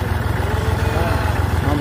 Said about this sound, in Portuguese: a dona patroa dirigindo o trator